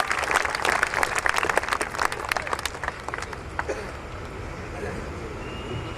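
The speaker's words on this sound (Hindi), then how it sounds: "भरपूर तालियों से स्वागत करें प्रिय मनजीत सिंह" A comedy poetry gathering audience applauds to welcome poet Manjeet Singh: dense, lively clapping that stays strong for a few seconds, then dies away into the murmur of the room.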